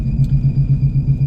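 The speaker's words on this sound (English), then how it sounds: "it wants to shift into the gear, but it goes right past it. It slips." A 1996 Impala SS engine running as its faulty transmission slips past a gear: a loud, close, low rumble pulsing in a steady rhythm, with no voices.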